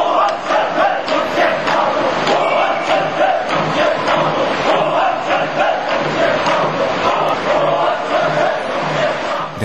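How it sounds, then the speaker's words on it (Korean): A large protest crowd during Korea's June Democratic Struggle roars and chants slogans in unison, a dense, continuous wall of voices that stays loud and near throughout. "전국에서 이런 함성이 들렸습니다."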